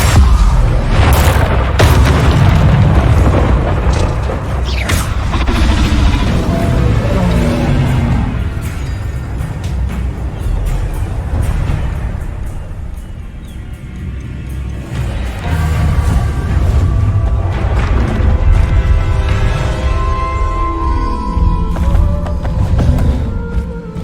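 Spell explosions from Bombarda and Confringo in Hogwarts Legacy boom out in a loud, dense, sustained battle mix with rumbling blasts and bursts throughout, and no speech.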